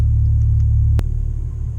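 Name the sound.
Ford Focus RS engine revving through a pull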